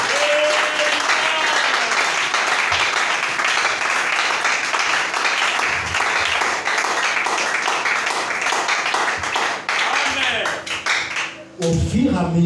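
A church congregation claps and applauds loudly and steadily for several seconds. The applause is dense and fills the space, then fades as voices take over at the end.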